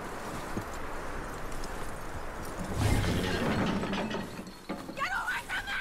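Horse hooves clip-clop in the Red Dead Redemption video game, a fairly faint rhythmic clatter of steps mixed with mechanical creaks and ambient noise, with no talk.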